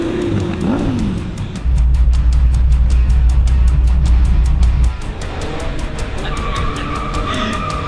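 A Toyota Hilux race truck on its first run idles loudly, then roars into a hard launch with a rapid rasping engine pulse, and the roar sits close and continuous throughout.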